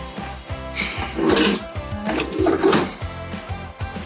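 A stuck junk drawer in a vintage camper tugged repeatedly, rapid rattling knocks and thumps in an uneven rhythm, close and fairly loud, with faint voices underneath.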